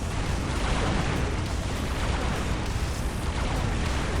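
Imperial Guard gunfire in the strategy video game Dawn of War, a dense, continuous barrage of overlapping shots and bursts at constant high loudness, with no voices over it.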